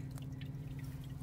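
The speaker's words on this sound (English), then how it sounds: "you see this water from top is going through this mesh that came with the barrel" Rainwater from a garden hose falls through a mesh into a rain barrel, making a few irregular, faint drips over a low steady hum.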